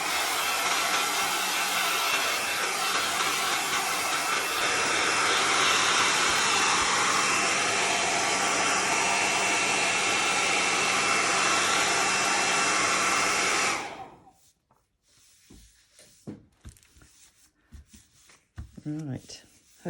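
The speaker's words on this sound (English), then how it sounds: "the quickest way to do that is just with the hairdryer" A hair dryer blows with a loud, steady roar for around fourteen seconds, then switches off, leaving quiet handling and rustling sounds.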